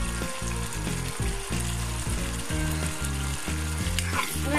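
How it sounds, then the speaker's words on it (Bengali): Spice masala of black pepper and garam masala powder sautés in a pan for mutton kosha, sizzling loudly and steadily under a rhythmic, repeating musical backing, close and unbroken. "আমি মশলাটাকে ভালোভাবে কষিয়ে নিচ্ছি।"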